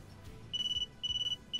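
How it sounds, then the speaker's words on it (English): A phone rings in the One Punch Man: A Hero Nobody Knows video game, three bursts of a bright electronic trill repeating at a steady pace over a faint low background hum. "Oh, phone call."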